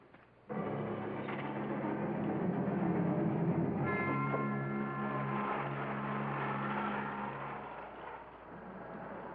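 A car drives along a country road with a continuous, fairly loud engine drone and rolling road noise, steady after a sudden start, with some tonal rumble midway and no talk.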